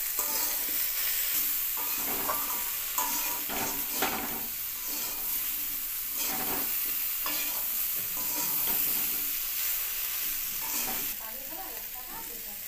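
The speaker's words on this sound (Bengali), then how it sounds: "সমস্ত মশলাগুলো সবজির সঙ্গে একটু নাড়িয়ে চাড়িয়ে খুব সুন্দরভাবে মিশিয়ে নিচ্ছি।" Okra, pumpkin and potato with ground spices, including cumin powder, frying in a pan for a vegetarian chachchari, stirred continuously over a loud, steady sizzle with soft scraping, and no talk.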